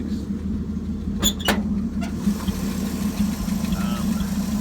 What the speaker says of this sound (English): First one of these I've ever had that actually runs, so I'm pretty stoked about that. It is the 235 straight 6.